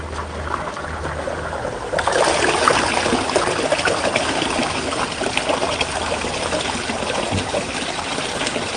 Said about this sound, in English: I'm going to turn the waterfall on for you